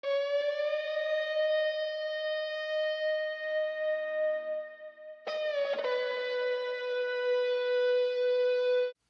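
A dark guitar bend loop drenched in reverb and panned side to side, rising into a long sustained wailing tone like a siren, dipping midway then swelling back loud and steady before cutting off.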